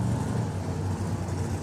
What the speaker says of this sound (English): The car you hear running there is Mark Hartveld with the Voodoo Hemi Superbird